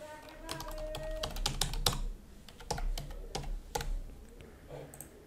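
Typing a password on a computer keyboard: a close run of quick, irregular key clicks with short pauses between bursts, fairly quiet and with no voices.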